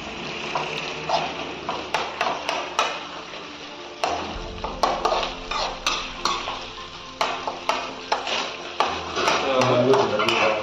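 Mushrooms roast in hot oil in a pan while a utensil stirs and scrapes them in repeated strokes. A steady close sizzle runs underneath, with occasional pings against the pan and a voice speaking over it.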